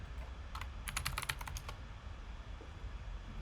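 A rapid burst of keystrokes on a computer keyboard as a Docker version command is entered, clustered clicks in the middle over a steady low background hum, no voices.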